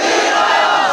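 A large crowd roars a slogan in unison at a religious gathering, a loud, sustained massed shout filling the whole second without a break.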